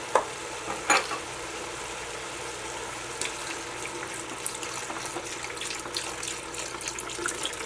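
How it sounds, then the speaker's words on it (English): Stock pours into a pan of chicken, chorizo and rice with a continuous watery rush and hiss, and a couple of clinks from the pan at the start. "Now we're going to add stock."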